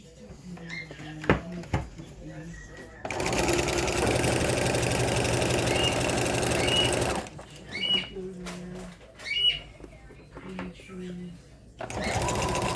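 A sewing machine stitches fabric for cloth bummies in a long continuous whirring run of about four seconds, then in shorter bursts, with quiet pauses and small handling noises between.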